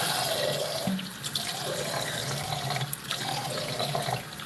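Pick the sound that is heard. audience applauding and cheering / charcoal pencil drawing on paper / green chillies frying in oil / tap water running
tap water running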